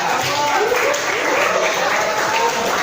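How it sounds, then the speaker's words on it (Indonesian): Classroom applause from a group of students, a steady wash of clapping sustained throughout at moderate loudness, with children's voices mixed in underneath. "Wah, hebat, tepuk tangan."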